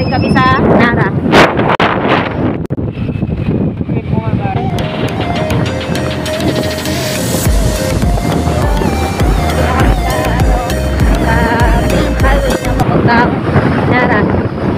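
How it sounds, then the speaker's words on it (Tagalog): Strong wind buffets the microphone while riding on the water, a loud continuous roar with a voice talking over it at the start. "hindi nyo marinig kasi malakas yung hangin"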